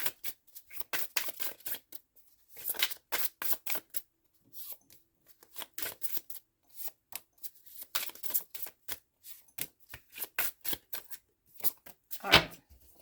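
Tarot cards are shuffled by hand in quick, irregular bursts of riffling and flicking, with short silent pauses between the close, crisp flurries and no talking.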